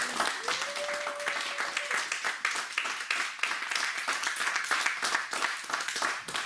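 A church congregation claps in praise of the Lord, dense, continuous applause filling the room at full strength for several seconds, with faint voices mixed in.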